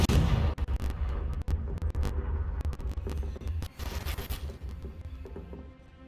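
A Confringo blasting-curse explosion in Hogwarts Legacy, a loud rumbling blast with deep booming body and sharp crackling bursts that slowly decays, heard alone without talk.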